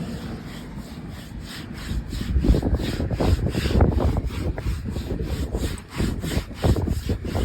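A rough, gritty rubbing sound of a hand sliding back and forth over rough paint on a Maruti Suzuki car, close up and steady with no talking.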